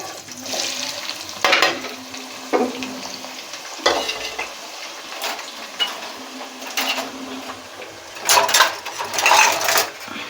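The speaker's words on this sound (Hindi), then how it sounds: "तेल यहाँ पे गरम हो चुका है। अब इसमें हम सबसे पहले इसमें प्याज ऐड करेंगे।" Chopped onions sizzle and fry in hot oil in a pot for a Shahi chicken korma, with a steady frying hiss and a few louder bursts of stirring and clatter, close and fairly loud, with no talking.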